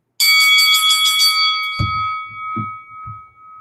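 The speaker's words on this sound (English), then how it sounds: "We'll go use the ring bell." A bright, ringing bell sound effect strikes with a dense shimmer of overtones, then its tone decays slowly while a few dull low thumps follow.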